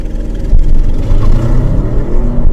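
A 2023 Audi RS 7 set to its RS2 maximum-attack mode launches hard from a standstill, its engine roaring loud and close in a sustained, steady surge with no talking.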